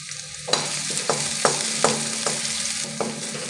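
Crushed garlic frying in hot oil, a loud continuous sizzle close up, punctuated by about six sharp spatula clacks against the pan at roughly half-second intervals, no voices.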